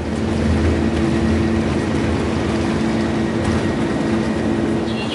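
Inside the cabin of a China Airlines Airbus A330 taking off from Singapore, the engines make a constant, loud, broadband roar that stays level throughout.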